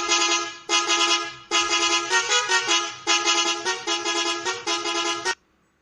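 A string of video-game vehicle horns honks in long, loud blasts, roughly seven separate toots of varying length one after another, then stops abruptly.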